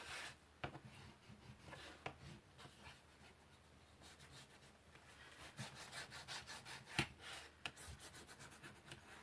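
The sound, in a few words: burnishing paper on a handmade book cover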